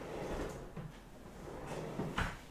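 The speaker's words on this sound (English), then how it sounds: "opening cupboards and getting things out and stuff." Kitchen drawers and cupboard doors are opened and shut during pumpkin carving, giving soft, muffled wooden knocks and slides against a quiet room hiss; no voices.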